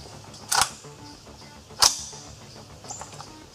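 A Sterling SAR-80 assault rifle made in Singapore fires two sharp semi-automatic shots about a second apart, with a faint metallic clack afterward and quiet outdoor background.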